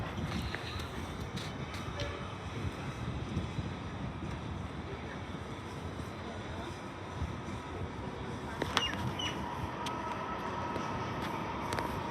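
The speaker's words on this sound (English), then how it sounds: "This is currently an Extrapolis train going into the depot." An Extrapolis train rolls past the North Melbourne flyover on its way into the depot, giving a steady broadband rumble and rush with some wind buffeting throughout and a brief sharper clank near the end.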